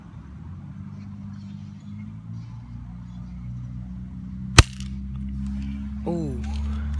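A single sharp gunshot cracks out while hunting outdoors, one loud close report over a low steady engine-like drone, followed by a faint rising whine.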